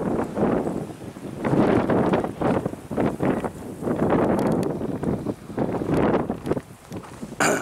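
Gusty wind blowing across open desert around a tall saguaro cactus, buffeting loudly in uneven surges with rustling and rough microphone wind noise throughout.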